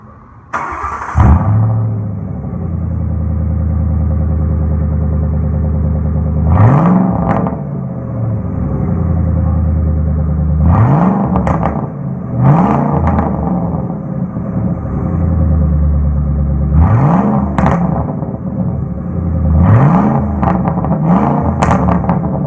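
A car engine with true dual exhaust running from the headers through an X pipe revs hard in repeated loud bursts, first settling into a steady idle and then blipping up and down close by, with no talking.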